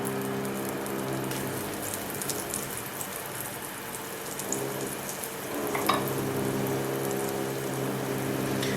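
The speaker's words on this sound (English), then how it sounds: "We're going to fry these on a relatively low heat until they're nice and golden brown on both sides." Lithuanian curd patties (varškėčiai) frying in a pan over relatively low heat, a steady close hiss and patter like light rain, unbroken for several seconds.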